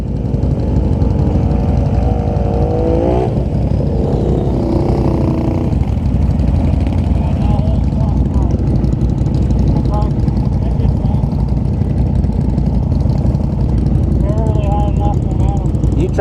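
A cammed Polaris Renegade XMR 1000R snowmobile engine drones steadily and loudly throughout, with revs rising and falling, while people talk over it.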